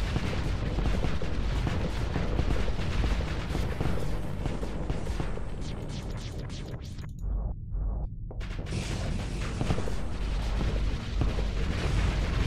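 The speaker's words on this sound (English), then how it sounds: "We are actually destroying a dreadnought from the Hikaran descendants with a cruiser class ship" StarSector space battle, a cruiser-class ship tearing apart a Hikaran dreadnought: dense, continuous rumbling barrages of weapon fire and explosions, loud throughout, with a short break near the middle before the pounding resumes.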